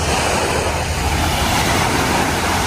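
Steady, roaring wash of ocean surf on a beach in Thailand fills the scene, loud and constant, with wind buffeting the microphone.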